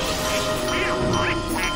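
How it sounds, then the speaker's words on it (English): Bonus ducks in the video game Team Fortress 2 give off a short burst of quacking, sounding loud and close against steady game background noise. "Bonus ducks!"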